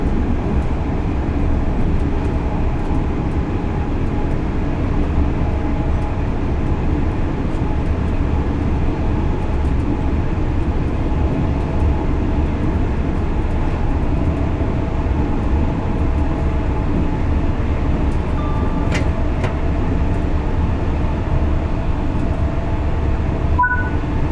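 A Class 801 Azuma electric train on the East Coast Main Line in the game Train Sim World 4 rumbles steadily and loudly for a long stretch, with continuous wheel and motor noise and a few faint tonal blips near the end.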